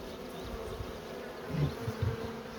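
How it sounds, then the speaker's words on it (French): Honey bees from a swarm settle into a small nucleus hive, making a continuous, close, low droning hum that swells briefly as individual bees buzz past. "C'était un bel essaim, je suis content."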